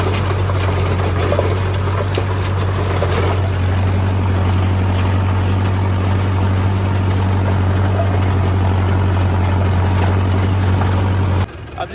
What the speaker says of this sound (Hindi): अब आप देख सकते हो पीछे रोटावेटर अपने 6 आरपीएम पे चलने लग गया है।